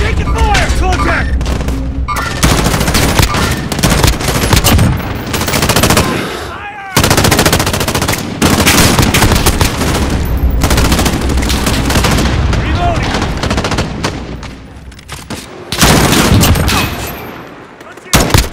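Loud bursts of automatic gunfire and booming shots fill a night-vision co-op firefight in Call of Duty: Modern Warfare. The rapid volleys are broken by brief pauses, with voices shouting in between.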